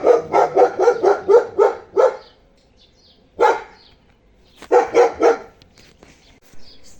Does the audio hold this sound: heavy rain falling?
no